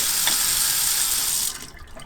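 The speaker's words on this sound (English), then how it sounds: "as you can see, my water started to pour." Water rushes steadily into a water heater tank as it refills after flushing, a loud continuous pour that cuts off abruptly near the end, leaving quieter trickling.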